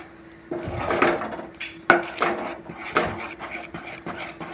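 Mango thandra (mango pulp mixture) being stirred in a pan, with a spoon scraping and knocking the pan in repeated strokes, including a few sharper clacks, all close up with no talking.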